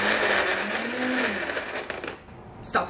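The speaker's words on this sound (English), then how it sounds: "it's the Beast Blender and I really love it. It's beautiful and it works really well." A Beast Blender whirs loud and steady, blending a drink up close, then winds down with a clatter near the end.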